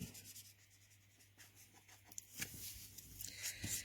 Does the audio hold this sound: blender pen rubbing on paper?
yes